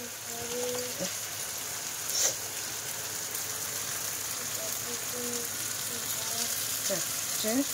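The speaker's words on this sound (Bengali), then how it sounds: "আর এই এদিকে মাংস কষাই হচ্ছে।" Meat braising and frying in a pan in a home kitchen gives a steady, continuous sizzling hiss, with faint voices in the background.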